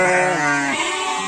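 Sheep and lambs in a barn bleat loudly and close by, a sustained overlapping wavering cry from the flock.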